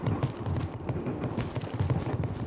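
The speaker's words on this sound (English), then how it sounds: "I hear just nothing but their footsteps." Footsteps in the shooter game A.W.O.L. sound as a steady stream of dull, rhythmic thuds, close and fairly loud, continuing for the whole stretch over a low, noisy background.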